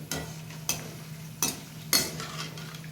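Bitter gourd pieces frying in a pan give a steady soft sizzle, broken by a few sharp stirring scrapes and clinks of a utensil against the metal, with no voices.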